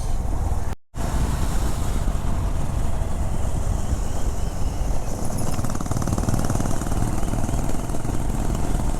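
A group of Honda CB 350 RS motorcycles fire together on a Sunday ride. Their exhaust notes merge into a loud, continuous, rumbling engine roar with a brief dropout near the start.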